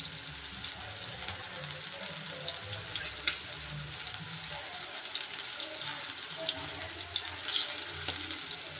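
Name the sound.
prawns frying in a kadhai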